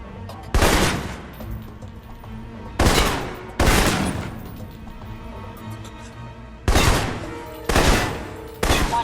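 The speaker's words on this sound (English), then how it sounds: "For long-range encounters, the assault rifle's the key" Assault rifle gunfire in the PS3 video game Alpha Protocol, heard as five loud, sharp bursts of automatic fire spread unevenly across the span, each one decaying into a dense, ringing tail.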